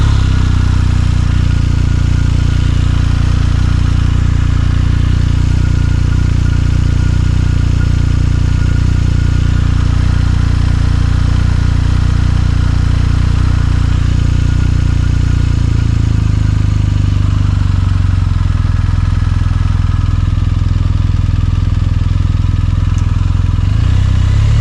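Running BMW boxer twin motorcycle engine, a loud close steady rumble that holds for the whole stretch, with the pitch dropping slightly partway through as the revs ease.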